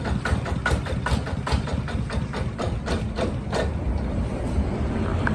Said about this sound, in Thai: เครื่องก็เร่งทันใจนะครับ สยามคูบาต้านะครับตัวแซทีรุ่นใหม่นะครับ